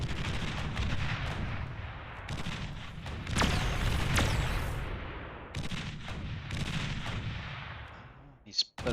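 Penetrator units firing in the real-time strategy game Beyond All Reason: heavy, booming artillery-like shots and rolling blasts in repeated bursts, loud and close, with a sharp crack near the end.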